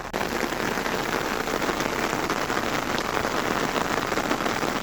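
Heavy rain pours down steadily, a dense, loud hiss of drops drumming on surfaces with no break.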